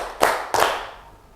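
Two sharp hand claps from a classroom of students answering a teacher's clap count, close and loud, the second following about a third of a second after the first, each ringing briefly in the room.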